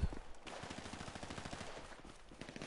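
Rapid gunfire from a GTA online match, rattling bursts of repeated shots rolling on steadily and fairly loud for a few seconds, with no voices over it.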